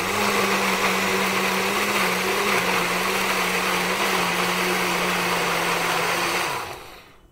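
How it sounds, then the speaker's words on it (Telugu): A kitchen mixer grinder blends a haleem base with a little water into paste, a loud steady motor whir with a slight pitch dip partway, running continuously for about six seconds before spinning down and stopping. "సో దీన్ని కూడా నేను మిక్సీ కొట్టేసి చూపిస్తాను మీకు"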